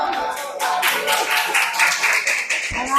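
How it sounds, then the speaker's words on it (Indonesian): Clapping from a classroom audience after a group presentation in a university teacher-training program, a short burst of many hands clapping close by, with voices talking underneath. "Tepuk tangan."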